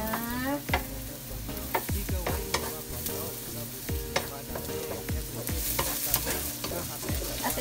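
Garlic sautéing in a small amount of rendered pork fat for pancit canton, with a steady sizzle broken by repeated sharp clacks of a spatula stirring against the pan, close and lively throughout.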